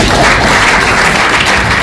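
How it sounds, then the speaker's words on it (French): A conference audience at an address on shared economic growth bursts into loud, dense applause that holds evenly throughout, with no speech on top. "On applaudit déjà."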